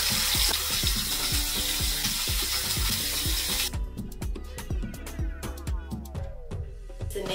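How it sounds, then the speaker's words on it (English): Tap water runs steadily into a bathroom sink while a face is washed, a close, continuous splashing rush; partway through the flow cuts and irregular clicks, drips and handling noises remain. "I don't do that, but I do wash my face twice."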